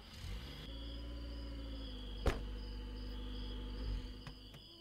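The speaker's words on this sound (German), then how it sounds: "Boah, diese Mücken, ne?" Night-time mosquitoes droning in the video game Contraband Police, a steady high-pitched insect buzz with a sharp click partway through, heard alone without talk.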